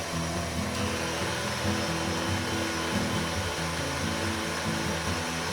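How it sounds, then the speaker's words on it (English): Electric mixer beating eggs for pumpkin cookie dough: a loud, steady whirring motor drone that holds continuously with no pauses and no talking. "I don't want to overbeat the eggs, but I want to make sure they're in there"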